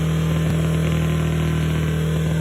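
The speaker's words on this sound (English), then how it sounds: "it was time to turn my attention back to the problem of the engine running away on itself" A diesel engine in a Ford Transit van, running away on itself, roars continuously at a high, steady pitch, loud and close throughout with no letup.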